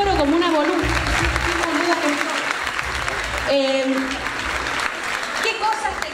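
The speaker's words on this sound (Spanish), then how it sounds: "Bueno, aplaudan esto, por Dios." An audience at a women's celebration applauds, a sustained patter of clapping that continues while someone speaks and voices rise over it, close and lively.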